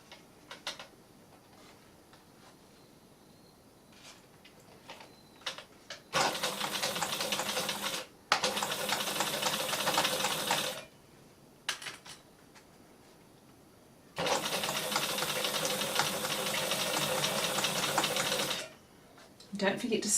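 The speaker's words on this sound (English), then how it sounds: "I'm just going to put it under the needle now, starting at this end, and I'm stitching about an eighth of an inch or a little less from the edge" Sewing machine stitching a dog bandana close to the fabric edge, running in two long, steady, loud bursts of rapid needle ticking separated by quieter pauses.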